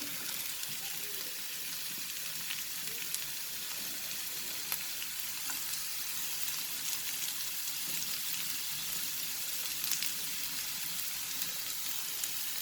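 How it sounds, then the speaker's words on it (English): Chicken fried rice ingredients sautéing in a pan, a steady broadband sizzle with occasional stirring scrapes and ticks, moderately quiet and continuous throughout with no talking. "I will saute everything together now for 30 seconds."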